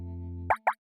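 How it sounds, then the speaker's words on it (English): Cartoon sound effect of a monster cleaning its feet: a steady low electronic hum cuts off into two quick, wet plopping pops in a row, short and close. "It's a monster cleaning its feet."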